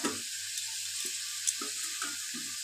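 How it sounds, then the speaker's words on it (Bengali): Chicken pieces and lightly fried potatoes sizzle in a pan, with a soft steady hiss punctuated by several brief scraping stirs, close and quiet with no talking. "আমি আলুটাকে অল্প ভাজা করে নিয়েছি, আর চিকেনগুলো দিয়ে সামান্য একটু নাড়াচাড়া করে নিলাম"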